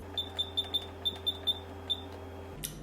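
Oven timer on a kitchen oven being set for 9 minutes, giving a string of about nine short, sharp electronic beeps at uneven intervals, fairly close, with no talking.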